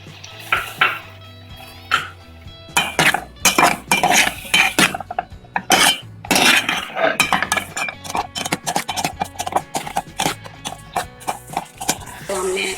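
Boiled chickpeas and diced boiled potatoes for chana aloo chaat are stirred in a bowl. A spoon clinks and scrapes against the dish in steady, busy bursts over a faint background hum.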